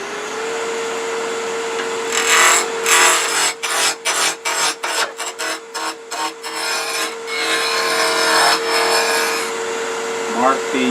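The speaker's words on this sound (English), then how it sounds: "Okay, small blank, secured between centers. Going to use spindle rough and gouge." A spindle roughing gouge cuts a small wood blank held between centers on a lathe running at fairly high speed, giving a steady rasping, shaving roar interrupted by a rhythmic series of brief pauses, with the lathe's motor hum beneath throughout.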